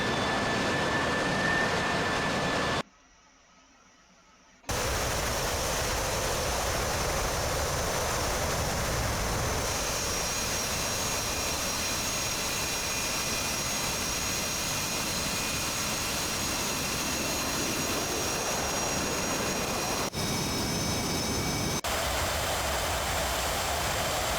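Jet aircraft engine in DCS World, a continuous loud roaring whine with a short drop to near silence early on, then a sustained steady roar; no talk.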